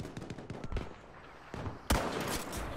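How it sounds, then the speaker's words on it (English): Gunfire in the video game Battlefield V, a rapid burst of sharp close shots followed by a couple of single cracks and a louder blast near the end, all within a few seconds. "I clearly shot these two different guys in the fucking head"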